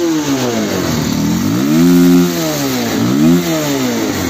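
Motorcycle exhaust notes from a KTM RC200, Yamaha R15 V3 and 2017 Pulsar 220F, loud and close, with the engine revving up and falling back twice in rising and sinking sweeps over a steady idle.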